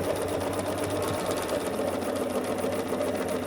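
A sewing machine stitches a quilt block seam in a steady, fast mechanical whir that runs unbroken from start to finish, close and alone.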